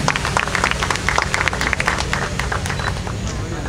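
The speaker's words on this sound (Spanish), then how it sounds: "Un aplauso para Sara." An audience at a photography contest awards ceremony claps steadily for a winner, a dense patter of many hands that continues for a few seconds at moderate volume.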